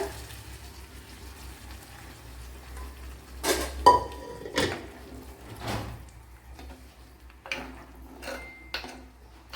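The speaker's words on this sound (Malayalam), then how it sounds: "ഇനി ഇത് വെന്ത് വേവിച്ച് വെച്ചിരുന്ന പരിപ്പും മുരിങ്ങയിലയും കൂടെ ഒഴിച്ചു കൊടുക്കുക" Cooked lentils and drumstick leaves are poured into a curry pan, with scattered metallic clanks and clinks of cookware over a quiet, low background.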